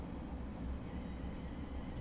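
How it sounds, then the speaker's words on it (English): A Thameslink Class 700 train in a train simulator game rumbles low and steady while braking, a continuous muffled drone with no voices over it. "Let's get the brakes on."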